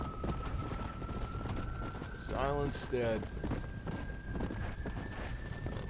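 A horse gallops in Red Dead Redemption: Undead Nightmare with a steady, continuous hoofbeat rhythm under ambient noise. A short voice or whinny cuts in midway, and a steady tone hums throughout.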